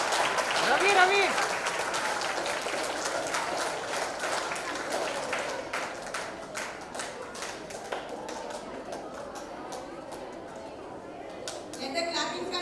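Schoolgirls clap for a guest at a school event, a sustained crowd of applause with sharp individual claps standing out, and voices and chatter mixed underneath before it thins toward the end.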